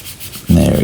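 Wood baseboard being sanded by hand, a single short, loud, close rasping rub that starts abruptly and holds steady.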